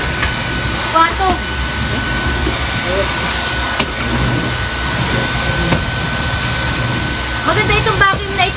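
A household vacuum cleaner runs with a steady, loud motor whine and airflow rush, while people talk intermittently over it nearby.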